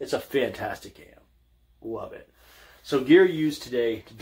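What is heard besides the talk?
None of the usual background noises is heard.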